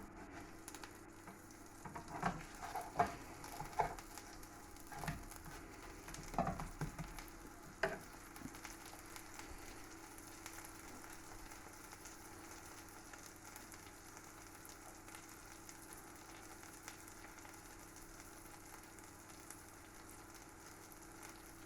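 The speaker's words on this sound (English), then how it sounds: "Fry it on both sides." A Greek pancake frying in a pan, a faint, steady sizzle that continues throughout, with a few soft knocks and scrapes early on.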